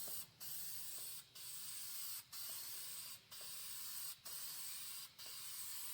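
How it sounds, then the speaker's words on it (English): Repeated bursts of aerosol spray paint on Honda D15 engine parts, about six long hisses in a steady rhythm separated by brief pauses, close and fairly quiet. "So I'm just going to go ahead and start spraying."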